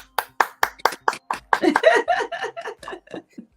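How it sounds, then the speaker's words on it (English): A brief burst of hand clapping, a dozen or so sharp claps in a quick steady rhythm, close by, with soft laughter and chatter mixing in as it fades. "I can only applaud you."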